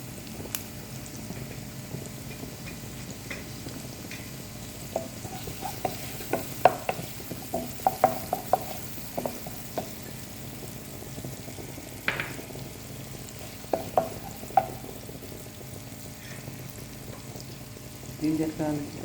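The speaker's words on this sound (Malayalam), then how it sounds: "നന്നായിട്ട് ഇങ്ങനെ ഇളക്കുന്നു." Butter being stirred and fried in a pan while making a bread-and-egg pizza: a soft continuous sizzle under scattered sharp scrapes and clicks of the spoon against the pan, irregular and close by.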